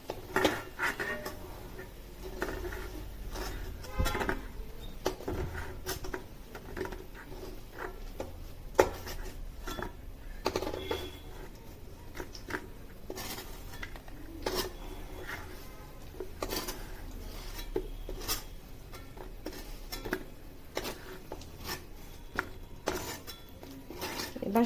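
Fried potatoes, cooked for a Bengali potol chingri dish, lifted from a pan with a metal utensil: scattered clinks and scrapes against the cookware over a low background.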